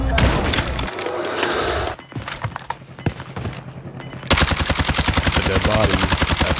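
Gunfire in a shooter video game: scattered single shots and sharp cracks, then a sustained rapid burst of automatic fire hammering loudly in quick rhythm.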